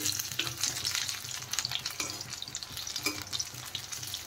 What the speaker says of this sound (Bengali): পকোড়াগুলো এখন নেড়ে দিচ্ছি।